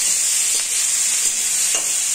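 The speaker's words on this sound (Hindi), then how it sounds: "बटर भी हो गया, इसलिए हम ये सब्जी हल्की सी फ्राई कर लेंगे।" Vegetables frying lightly in butter in a hot kadai, making a loud, steady, hissing sizzle throughout, with a few soft stirring touches just audible underneath.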